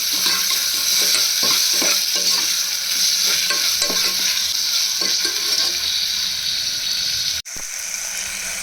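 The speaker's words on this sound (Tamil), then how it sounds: "இப்போ நம்ம ஒரு tomato medium size tomato add பண்ணிக்கிறேன் இதையும் வதக்கிப்போம்" Tomato frying with onion and ginger-garlic paste in a pan, a steady loud sizzle with repeated stirring scrapes throughout, broken by a brief pause near the end.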